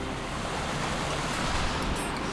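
Waterfall pouring down at a hiking spot in Tasmania, a steady, loud, full rushing roar that fills the whole clip without pause and with no voices over it.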